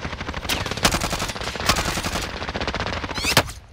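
Rapid automatic gunfire in a Resurgence quads match: loud, close bursts rattle almost continuously, with sharper cracks standing out among the rounds.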